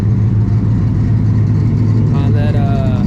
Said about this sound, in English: There's a C5 chopping it up over there.